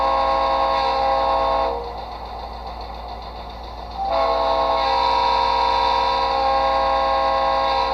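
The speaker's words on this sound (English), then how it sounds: "Here's the quill whistle." A quill-style train whistle plays through a small iPhone-type speaker fitted in an HO scale model locomotive, a loud sustained chord that dips briefly and then resumes at full strength, with no talking.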